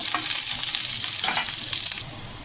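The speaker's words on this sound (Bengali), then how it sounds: "এখানে আমি দিলাম মিডিয়াম সাইজের একটা পেঁয়াজ কুচি হালকা ফ্রাই করে নেব" Chopped onion frying in a pan as the base for dal, a steady loud sizzle with stirring scrapes, no talk over it.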